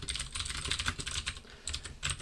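Rapid typing on a computer keyboard during a command-line lecture, a steady run of close, crisp key clicks with a short pause before the tapping resumes.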